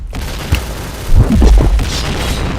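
A grenade blast in the PointBlank shooter game, a single deep boom about a second in with a rumbling tail, preceded by a smaller pop, amid ongoing game noise.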